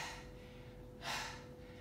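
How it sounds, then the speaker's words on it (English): Faint, close heavy breathing during a planks and burpees Tabata workout, with one sharp audible exhale or gasp midway through a quiet stretch and no speech. "Breathing harder."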